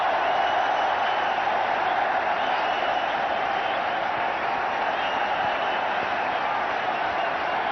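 A cricket crowd at an India versus Australia one-day international in 2001 applauds Sachin Tendulkar's 10,000th run, a steady, dense roar of clapping and cheering that holds at an even level throughout.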